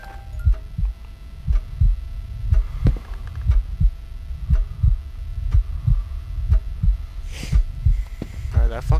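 Steady, throbbing heartbeat loops through the Paranormal Activity: The Lost Soul VR horror game, low thumps pulsing at an even pace with a faint hum, brief other game noises breaking in near the end.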